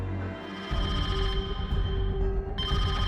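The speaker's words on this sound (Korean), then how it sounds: "매일 밤 자정이 넘으면 어김없이 브로커로부터 전화가 걸려왔습니다" A telephone ringing with a steady electronic tone over a low background hum, sustained and fairly close, with no one speaking.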